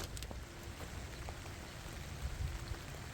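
Freezing rain falls on trees outdoors on a farm, a faint, even patter with scattered soft drops and no voices.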